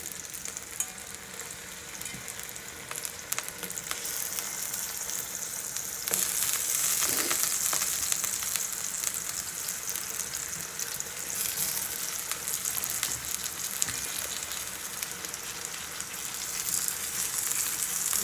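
Hot oil fries and sizzles steadily while chicken and basmati rice cook, with a dense crackle that rises louder partway through and a few scraping stirs, close and continuous.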